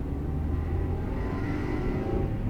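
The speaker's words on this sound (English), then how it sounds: "the stock exhaust note so empty" A stock exhaust on a 90s Honda Civic drones steadily while driving, a low, even engine hum from inside the cabin with no talking.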